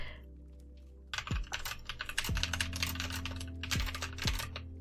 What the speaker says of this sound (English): when I was typing it was picking up pretty loud.